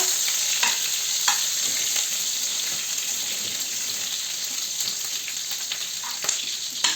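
Butter melting in a frying pan with a little oil gives a steady, close hiss and sizzle throughout, with occasional faint clinks and scrapes of a utensil.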